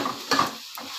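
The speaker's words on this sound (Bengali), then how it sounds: "এবার আমি শালগম আর টমেটোটাকে কষিয়ে নিচ্ছি মশলার সাথে।" Turnip and tomato frying with spices in a pan, with a spoon or spatula knocking and scraping against the metal in a couple of brief, close clatters, no talking.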